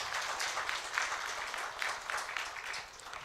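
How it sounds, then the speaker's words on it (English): Audience applause for a professor at a ceremony celebrating 100 years of TVET: steady, dense clapping from a crowd, fairly loud and continuous throughout with no voices. "Again, a bigger clap for this professor."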